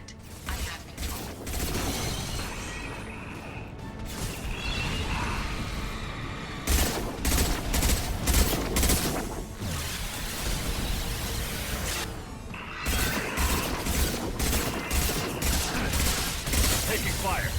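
Gunfire and battle noise from the Mass Effect 2 Legendary Edition video game, with loud rapid bursts of shots and mechanical clatter coming in waves, broken by short quieter gaps.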